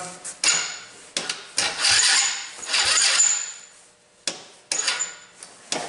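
A Tao quad ATV with the key on and choke set fails to start, giving several short, loud mechanical bursts separated by pauses, with no engine catching and running.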